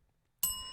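A single bright bell ding rings out sharply after near silence, its metallic tone lingering and decaying slowly.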